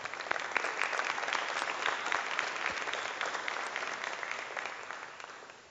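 Audience applause at a school foundation Hall of Fame ceremony, a steady wash of many hands clapping that holds for several seconds and slowly fades toward the end.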